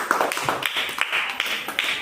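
Children in a first-grade classroom clap together in a quick burst of rhythmic claps, close by and fairly loud, with faint voices underneath.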